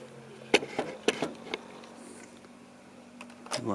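Soft mechanical clicks and thumps of the LEGO Ideas 21323 Grand Piano's keys and hammers striking the strings, a few irregular taps over a faint steady hum, close and quiet.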